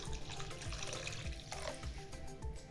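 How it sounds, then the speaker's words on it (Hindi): A cup of water is poured into a pan of simmering chole masala, giving a continuous gush and splash of liquid with low bubbling underneath. It is close and steady, with no talking. "1 कप पानी डाल देंगे।"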